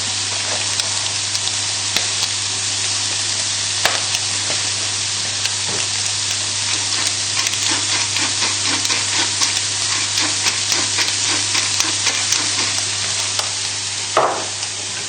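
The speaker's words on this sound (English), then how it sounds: "Still on the high heat, we're just moving everything around the pan just so that make sure that nothing's sticking on the bottom" Mushrooms and bacon frying in oil in a pan on high heat, with a loud, dense, continuous sizzle and occasional scraping stir strokes, heard up close with a low steady hum beneath and no talking.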